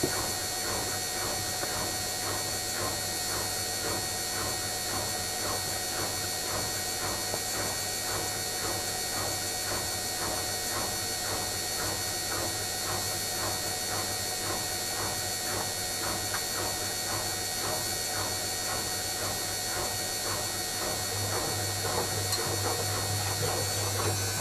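A Candy Aquamatic washing machine's programme mechanism advances toward its second rinse, giving a steady mechanical hum with a fast, regular ratcheting tick running throughout, moderately loud and close, with no talking.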